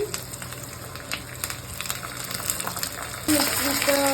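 Curry leaves, chilies and peanuts hitting hot oil in a pan, with a steady crackle that bursts into a louder, rushing sizzle near the end; a voice talks over it.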